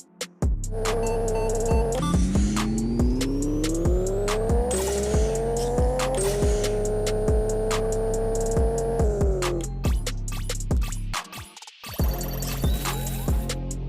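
Turbocharged 500-horsepower car in the mobile game Pixel Car Racer, revving hard and climbing through gears in a drag pass with rising engine whine, brief shift breaks, loud and close throughout.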